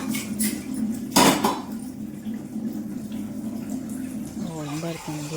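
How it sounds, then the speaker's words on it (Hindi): Dishes and pots being washed under running water at a home sink, with a sharp clatter of metal utensils near the start, then a steady tap stream, while someone talks over it. "बर्तन धुल गए हैं तो साथ में बासन भी धो दिया है हमने"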